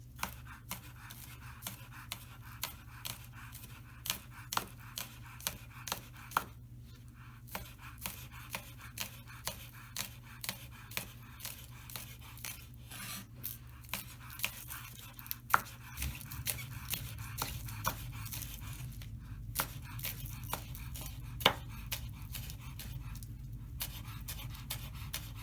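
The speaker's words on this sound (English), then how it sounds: "we're just going to chop this up" Green onion stalks are chopped with a knife on a board in a quick, steady run of close, crisp taps that keep going the whole time, with no talking.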